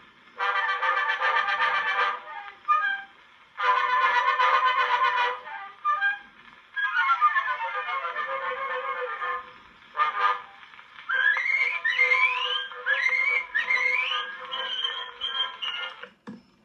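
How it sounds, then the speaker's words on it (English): Mrs. Alice Shaw and her twin daughters whistle "Springtide Revels" on an Edison phonograph record, bright trilling phrases with gliding notes in bursts separated by brief pauses, thin antique playback. "Whistling Trio, Springtide Rebels by Mrs. Alice Shaw and her twin daughters, Edison Record"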